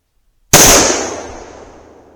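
A single loud .357 Magnum shot from Remington 125-grain jacketed soft-point ammunition, close by, with a sharp crack and a reverberant tail fading over about a second and a half, with no voices.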